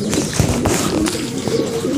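Racing pigeons settle on a rooftop at the finish of a funrace in Leyte, with close, loud soft cooing and wing flutters in short repeated bursts, alone without speech.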